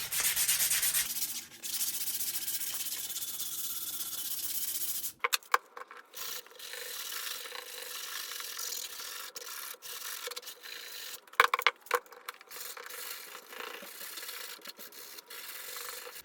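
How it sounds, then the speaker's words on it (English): Steady back-and-forth rasping of 100-grit sandpaper rubbed by hand over a wooden hatchet handle, close and continuous, with a few short knocks and pauses between strokes. "I'm going to start sanding it with this sandpaper right here"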